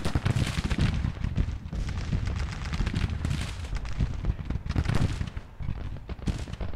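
Civil War artillery battery firing in the strategy game Grand Tactician, a dense, continuous rumble of cannon booms and musketry rolling over one another, loud and sustained without pause.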